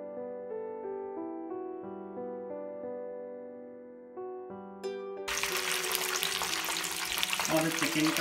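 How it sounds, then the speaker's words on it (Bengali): Tuneful music plays for about five seconds, then breaded chicken katsu in hot frying oil takes over with a dense, even sizzle that stays close and constant to the end. "আমাদের চিকেন কাসু প্রায় ভাজি হয়ে গিয়েছে"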